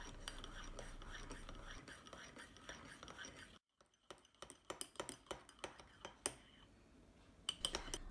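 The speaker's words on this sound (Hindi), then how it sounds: "अब चम्मच से मैं इसको मिला लूँगी" A metal spoon stirs creamy coffee paste in a cup, making a run of light, irregular clinks and taps against the sides after a brief quiet gap, with a soft hushed voice faintly present earlier.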